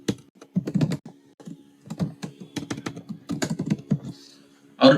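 Quick bursts of keystrokes on a computer keyboard as a business name is typed into an online GST registration form, close and crisp, with short pauses between words.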